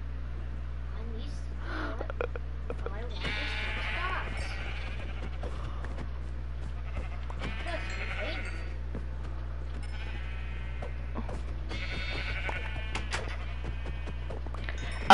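Sheep bleat repeatedly in a blocky crafting-style video game, wavering cries coming in bursts over a steady low hum, moderately near, with people talking throughout.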